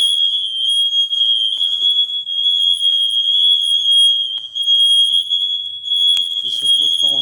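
Several smoke alarms sound together across the rooms of an apartment in the early morning, a loud, unbroken high-pitched electronic tone that carries on steadily throughout, with a brief rustle near the end.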